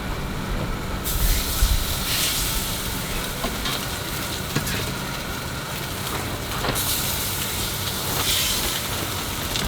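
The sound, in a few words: salmon sizzling in ghee in a hot cast iron pan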